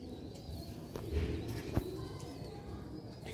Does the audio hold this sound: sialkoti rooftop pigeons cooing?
yes